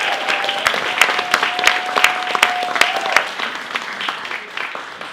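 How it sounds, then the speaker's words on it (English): A fundraiser crowd applauds for Project Mend-A-House with dense, lively clapping and a few sharp individual claps standing out, holding steady for several seconds alongside a faint sustained tone. "Can we give a quick round of applause for Project Mid-House and the great work they do?"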